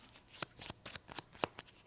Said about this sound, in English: while I'm taking my turn, I'll shuffle Loki's cards